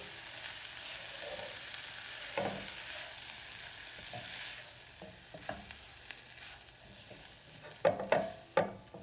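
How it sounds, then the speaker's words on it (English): Kale and other greens simmer in a pot on the stove, a soft steady bubbling and sizzle with occasional stirring clinks and knocks growing louder toward the end. "Bring that down to low, let that simmer."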